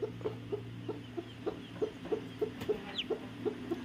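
Hens and chicks feed in a field, giving soft, regular clucks at a moderate distance, with an occasional higher peep over a low background hum.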